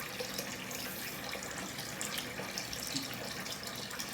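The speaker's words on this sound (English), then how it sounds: "Cold water rinse." A bathroom tap runs cold water steadily for a shave rinse, a continuous splashing hiss into the sink at moderate, even volume with no voices.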